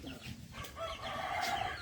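A chicken calls outdoors, a brief faint clucking and crowing-like voice over low background noise.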